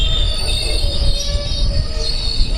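Train wheels squeal steadily as a train brakes to a halt at a platform on the East Coast Main Line, a loud high metallic screech over a heavy low rumble, with no one talking.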